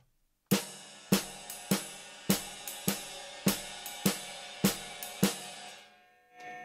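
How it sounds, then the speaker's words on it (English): A jazz drum groove played alone: a cymbal ride pattern with sharp snare hits landing steadily on each beat, ringing out briefly at the end. "you have the snare on all the quarter notes, it sounds like this"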